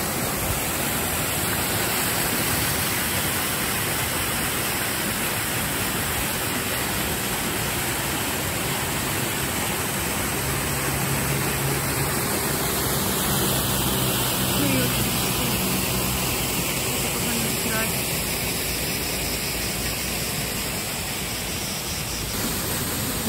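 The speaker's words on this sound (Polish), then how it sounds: "Oczywiście muszę wam pokazać ten przecudowny wodospad." A waterfall at Loutraki produces a steady, dense roar of falling water that holds at an even level throughout, with no breaks.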